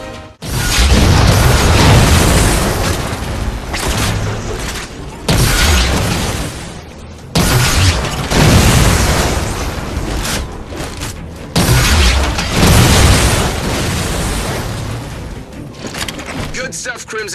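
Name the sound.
explosions destroying AA guns in video game Halo 4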